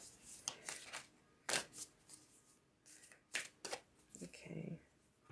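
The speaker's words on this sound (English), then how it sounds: "Sometimes it takes a bit longer to shuffle." A deck of cards is shuffled during a tarot-style reading, giving quick riffling bursts and soft flicks at close range, interspersed with quiet talk.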